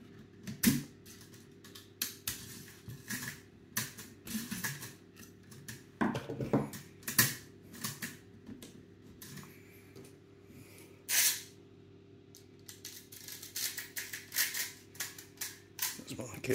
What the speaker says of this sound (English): I'm going to use the flathead to help me get it down in there.